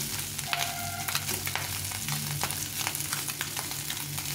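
Small morola fish frying in a shallow layer of oil in a pan, making a steady, close crackling sizzle with scattered sharp pops throughout and no voices.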